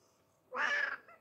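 A cat gives a single clear meow at a seaside tea garden, short and fairly close, rising out of quiet background and trailing off, with no speech over it.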